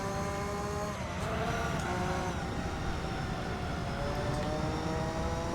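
A race car engine in a racing video game, a continuous loud roar with rising and falling pitch through shifts and a brief dip in revs near the start.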